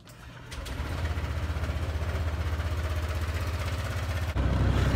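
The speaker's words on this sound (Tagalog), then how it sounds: "Maganda talaga yung tunog pag ano, maganda talaga yung performance ng engine natin pag bago yung oil" A Honda Click 150i scooter idles steadily after fresh oil, a low even engine drone that holds for several seconds before the revs rise slightly near the end, with no talking.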